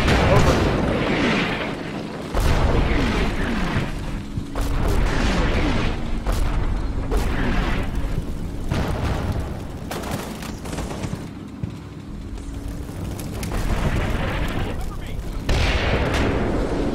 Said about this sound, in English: Lots of more artillery strikes going in.